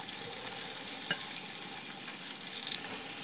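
Potatoes and onions are stirred in oil in a pan for a Spanish omelette, producing a quiet, even frying hiss with a few soft utensil taps.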